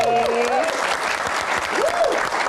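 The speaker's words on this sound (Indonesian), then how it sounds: "Tepuk tangan juga dong buat teman-teman mahasiswa yang ada di sini" A studio audience at a television talk show claps steadily for the university students present, with a host's voice rising briefly over the applause.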